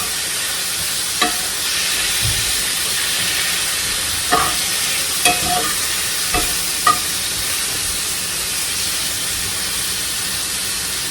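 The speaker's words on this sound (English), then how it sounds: "we are just going to sear this on a nice high heat" Food searing in garlic butter in a pan over high heat, with a steady broad sizzle throughout and a few brief clinks and scrapes of utensils; no one speaks.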